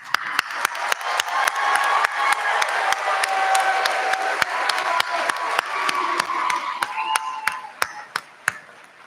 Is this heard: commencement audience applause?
yes